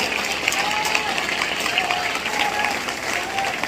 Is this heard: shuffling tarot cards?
no